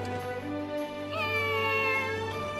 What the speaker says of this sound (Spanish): Nunca había visto a un gato haciendo autostop.